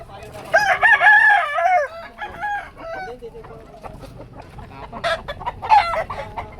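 Roosters crow loudly at close range, with chickens clucking and chattering around them in a busy farmyard. A voice can be heard in the background.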